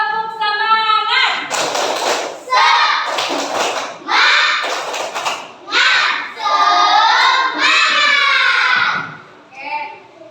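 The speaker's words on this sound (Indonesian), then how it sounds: "Tepuk semangat." Children doing a rhythmic 'tepuk semangat' spirit clap in a classroom, chanting together with claps and thumps in a quick patterned sequence, loud and close.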